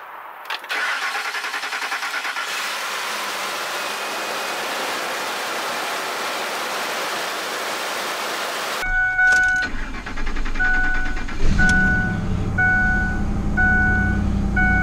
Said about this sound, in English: it did start my truck too